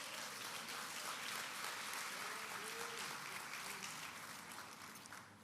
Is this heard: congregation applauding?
yes